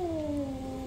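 A cat in the horror game DreadOut 2 gives one drawn-out, falling meow, close and fairly loud over a low background hum.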